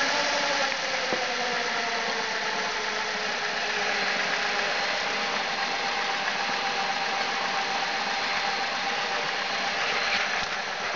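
A Franzbox MINI sound module plays a simulated engine at idle, a steady unbroken mechanical drone with a faint knocking texture that holds evenly at a moderate level for the whole stretch, with no talk.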